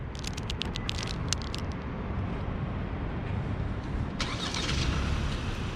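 A 2022 Hyundai Santa Fe Limited with a 2.5 turbo engine starts by remote start, settling into a steady low rumble with a few clicks at the start and a slight rise in engine noise near the end, no talking.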